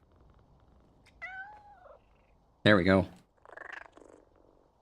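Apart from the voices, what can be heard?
cat purring while being petted in the video game Powerwash Simulator 2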